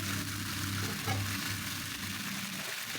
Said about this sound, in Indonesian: Sebelum diangkat, saya tambahkan lagi 2 sendok makan saus barbecue agar aroma panggangnya lebih meresap dan lebih mantap.